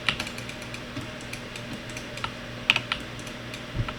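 Keys tap on a computer keyboard, a handful of soft clicks scattered over four seconds with one sharper press near the middle, close by against a low steady hum.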